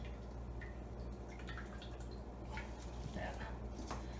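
Water drips and trickles as shredded vegetables for pork and vegetable egg rolls are wrung out by hand, a soft, close sound over a steady low background hum.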